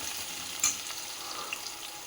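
Capsicum frying in a pan, a steady soft sizzle throughout with a couple of brief sharp pops, close and fairly quiet with no talking.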